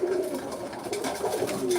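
Young pigeons, this year's weaned birds, cooing steadily in a loft at feeding time, several overlapping low throaty coos close by and fairly loud, with no talking over them.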